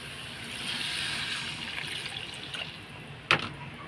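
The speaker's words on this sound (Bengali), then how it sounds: "এখন আমি জল দিয়ে দেবো।" Water is poured into a cooking pan of egg curry, making a steady close trickling splash that ends with a brief clank, with no voices.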